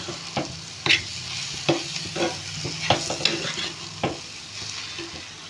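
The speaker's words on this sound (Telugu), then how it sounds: "ఈ కారం కూడా ఫ్రై అయ్యేటట్టు మొత్తం ఫ్రై చేసుకోవాలండి" Tamarind leaves and shrimp being stir-fried with salt, chilli powder and turmeric in a pan, with a low steady sizzle broken by several sharp scrapes and knocks of a spatula, fairly close and with no talking.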